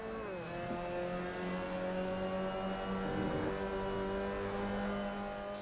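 A racing car engine in a racing video game holds a steady, sustained drone with a brief pitch dip and recovery. It stays loud and continuous throughout, with no talking.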